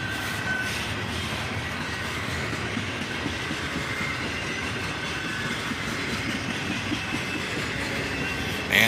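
A CSX freight train rolls steadily past, its mid-train AC44CW distributed-power locomotive and a long cut of single-stack cars producing continuous rumbling and wheel clatter, loud and close with no talking.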